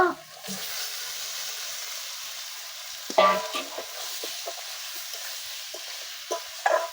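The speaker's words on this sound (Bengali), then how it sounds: "আলুর সাথে আর একটু আমি কষিয়ে নিব।" Spice paste and potatoes fry in a pan during a Bengali village kitchen fish-curry cook, a soft continuous sizzle broken by a few sharp scraping stirs close by, no talking.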